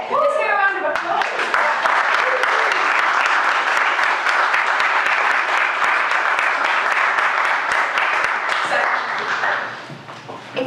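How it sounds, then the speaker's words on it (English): An audience at a climate business event breaks into loud, sustained applause that fills the room for about nine seconds before tapering off, with a voice briefly audible at the start. "Let's hear a round of applause."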